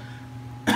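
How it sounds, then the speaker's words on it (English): A single short cough or throat clear near the end, after a quiet stretch. "Excuse me, I'm coughing."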